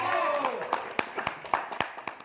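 An audience at a corporate gathering gives a smattering of sharp, uneven claps, half-hearted and sparse rather than full applause. They follow a voice that trails off at the start.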